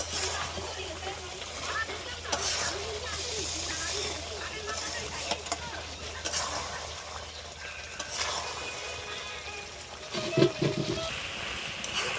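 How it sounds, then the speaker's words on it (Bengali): Hot water goes into a pot of sizzling goat meat curry, giving a steady hiss and bubbling sizzle throughout, with people talking over it. "এখানে এখন গরম জল দিয়ে দিচ্ছে"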